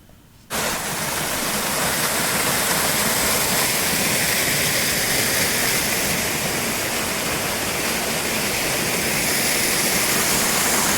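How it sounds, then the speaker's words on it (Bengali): Waterfall in a green forest in Odisha, a dense, steady roar of falling water that starts abruptly after a brief quiet moment and then stays loud and unbroken, with no voices. "ঝর্ণা ও সবুজের আস্তরণে বেশ কিছু সময় একাকী কাটালাম"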